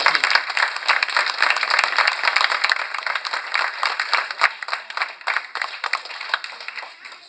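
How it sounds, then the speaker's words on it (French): An audience at a party rally in Charleroi claps for doctors offering free medicine to workers, a dense, lively burst of hand clapping that runs continuously, tapering slightly toward the end. "je crois qu'on peut les applaudir"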